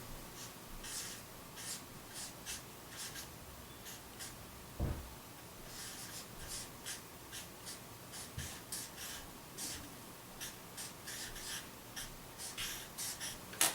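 Pen or pencil writing an algebra equation by hand on paper, a quiet series of short scratchy strokes in irregular bursts, close and alone with faint breathing.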